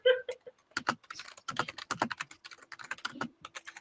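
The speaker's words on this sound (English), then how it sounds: "You can probably hear me typing now." Rapid, uneven clatter of keys on a computer keyboard, close and fairly quiet, in short bursts with brief pauses and no talking.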